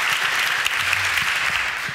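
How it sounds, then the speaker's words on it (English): A conference audience gives a round of applause for the organisers, dense steady clapping from a large crowd filling the room for a couple of seconds, with no voices standing out. "I think they deserve a round of applause."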